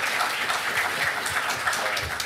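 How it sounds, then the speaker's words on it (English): A lecture-hall audience in a college class breaks into continuous applause, a dense even wash of clapping with no voices over it. "Can I get a big round of applause for Shelly Kovacs?"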